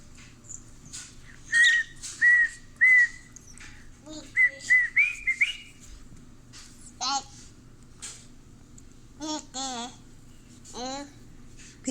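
A pet cockatiel whistles a short song indoors, a run of clear rising and falling whistled notes in bursts, close to the recorder, with some quieter chirps between phrases.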